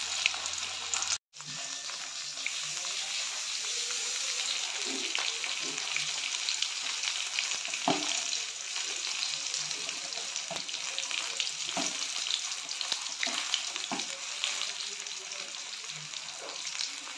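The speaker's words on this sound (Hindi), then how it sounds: "ऐसे ऐसे करके फ्राई कर लेना है।" Food fries on a tawa with a steady, close sizzling hiss that runs throughout, broken by occasional soft scrapes and stirring clicks.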